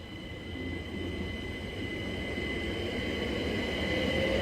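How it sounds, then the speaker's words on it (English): A Great Northern Class 387 electric train at Hitchin on the East Coast Main Line, a steady rolling rumble with wheel and rail noise and a faint high tone, building slightly louder over a few seconds. "Great Northern Service from Cambridge to London King's Cross, calling Stevenage Finsbury Park and London King's Cross."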